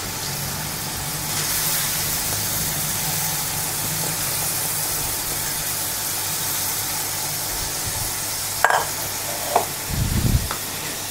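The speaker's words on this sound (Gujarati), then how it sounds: "મેં અહીંયા એક કિલો ગાજરને છીણી લીધા છે, તે નાખી લઈ લઈશું" A kilo of grated carrots fries in melted ghee for carrot halwa, a steady hiss of sizzling that carries on throughout. A few sharp spoon-on-pan clinks and stirring knocks come near the end. No one speaks.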